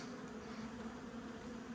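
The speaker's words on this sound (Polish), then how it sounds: "I pszczoły próbują tu się dostać z innych uli" Honeybees from other colonies buzzing around a hive while trying to get in, a faint, steady droning hum close by with no voices.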